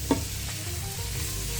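Seasoned rice, with a little salt added, being mixed in a pot, giving a soft continuous scraping and rustling with one brief louder knock near the start and no talking.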